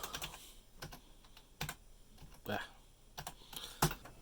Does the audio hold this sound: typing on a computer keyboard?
yes